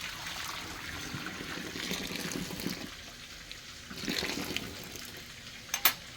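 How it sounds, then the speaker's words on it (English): Water drains off a bag of cooked rice into a bowl in a home kitchen, coming as soft trickling pours in two short waves. A brief sharp clink of handling sounds near the end. "First thing I'm going to do is drain this off."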